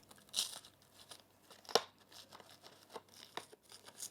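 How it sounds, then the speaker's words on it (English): Dry, crunchy moss being torn and crumpled off a plant moss pole, a series of close crackling rips and crinkles in irregular bursts, one sharp loud snap in the middle. "I'll show you guys how crunchy the moss is."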